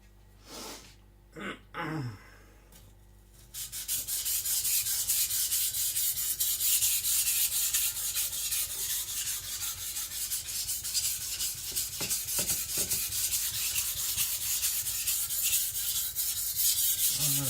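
A Chinese cleaver from IKEA is ground on a whetstone with long, continuous rasping strokes, loud and close, after a few brief scrapes and a pause as the stone is flipped.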